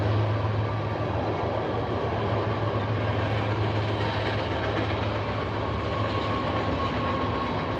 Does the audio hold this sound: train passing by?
yes